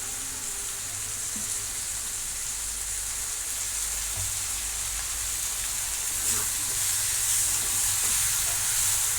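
A chili-powder spice mixture being sautéed and cooked down in oil, producing a steady, even sizzle and hiss that holds at a constant level without pause.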